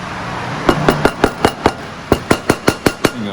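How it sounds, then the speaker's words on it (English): Broken piston fragments from a detonation-damaged Subaru WRX STI rally engine drop onto a hard surface as a series of about a dozen sharp, close metallic clinks in a quick irregular rhythm, with no talk. "There you go, bits just keep falling out."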